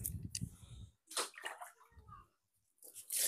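Water is mixed by hand into cattle feed, giving short wet squelching and sloshing bursts separated by brief silences, close and fairly quiet.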